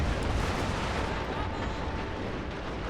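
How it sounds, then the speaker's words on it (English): Dense, continuous roar of Gatling guns firing in a strategy video game, rumbling and crackling without pause through the whole stretch. "the Gatling guns now fire"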